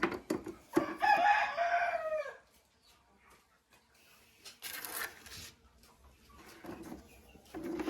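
A rooster crows loudly up close, followed by quieter clucking and shuffling from chickens in an otherwise calm space.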